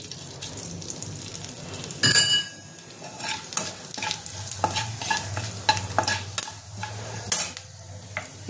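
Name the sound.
bay leaves and whole cumin sizzling in hot oil in a wok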